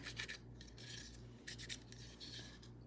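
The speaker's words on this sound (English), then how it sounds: "Just sort of rubbing it in and along the seams, doing a little more." Soft, quiet rasping of pencil lead being rubbed along seams in a Dollar Tree DIY project, a series of short scratchy strokes in bursts with brief pauses, close and faint.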